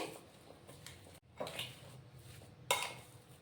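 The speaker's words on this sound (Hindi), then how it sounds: "अब इन सब मसालों को हम अच्छे से मिक्स करेंगे" Spices and coriander leaves mixed in a bowl: a spoon scrapes and clinks against the bowl in a few scattered strokes, faint and close, with a sharper clink near the end.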